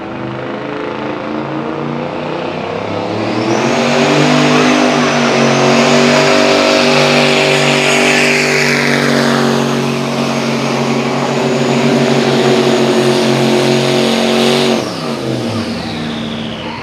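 A John Deere and a Ford 9600 farm tractor, both 10,000-pound hot farm class pullers at a truck pull event, roar at full throttle with a loud sustained engine drone that rises in pitch, then cuts off near the end.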